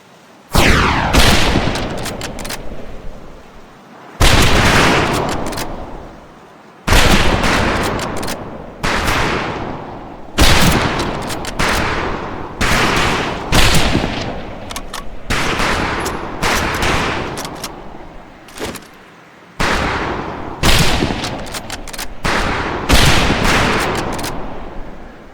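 Rifle volley fire on a firing range in Medal of Honor Pacific Assault: a long string of loud, sharp gunshots, a dozen or more, fired in irregular bursts and single cracks with brief pauses between them.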